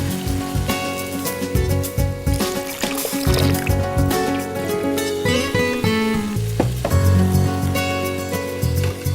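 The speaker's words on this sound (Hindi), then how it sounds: "अब इस मसाले को भुनना है हमने तेज आंच पर तकरीबन 10 मिनट के लिए" Continuous loud sizzling of Kolhapuri chicken masala paste frying on high heat in a hot pan, crackling and spitting throughout, with stirring scrapes and music playing underneath.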